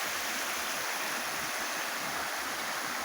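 Steady broadband rush of the São José river flowing near its source on a family property, continuous and fairly close, with no voices.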